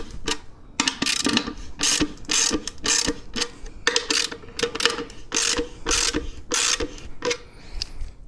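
Tuning lugs on a bongo drum are turned with a key, giving bursts of clicky ratcheting metal turns, each lasting about a quarter second and coming in an uneven rhythm over eight seconds, close up with no talk.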